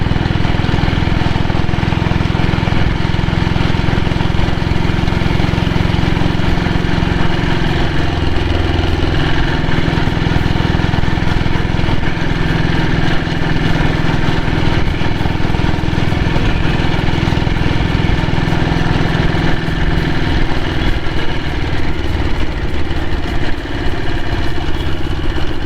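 A 1998 diesel Bullet motorcycle idles steadily at close range, a loud, continuous low chugging throb that holds unchanged for the whole stretch with no talk over it.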